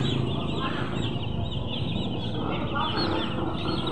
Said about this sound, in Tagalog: Ayan ang daming sisiw.